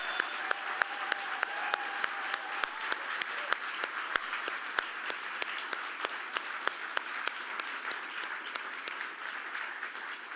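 A school concert audience keeps up steady, even clapping, with distinct individual claps standing out sharply in a regular pattern. The applause stays at a moderate level throughout, with no one speaking over it.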